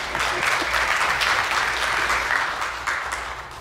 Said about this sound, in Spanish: un aplauso a ustedes mismos